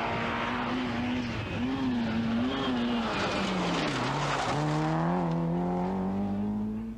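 A Peugeot 205 GTI rally car races in a 1988 British Open Rally Championship stage, its engine wailing and shifting pitch loudly as it revs and changes gear, sustained for several seconds without talk.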